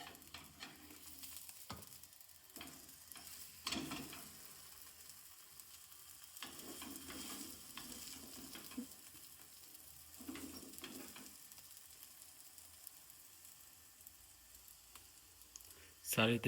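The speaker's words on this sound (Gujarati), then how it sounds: "શેકાવા દેવાનો રહેશે પરોઠો" Aloo paratha roasting on a hot village-style griddle, a steady close sizzle and frying hiss running throughout with soft scraping and handling bumps scattered through it, no voices.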